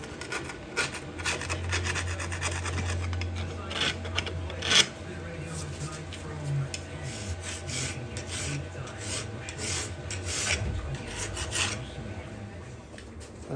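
Metal hand file deburring a milling machine part, repeated rasping strokes in an irregular rhythm, close and moderately quiet, with some faint background noise.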